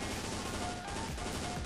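Rapid sustained automatic fire from an M249 machine gun in the mobile shooter CF Mobile, a dense continuous rattle of shots close and loud with no gaps.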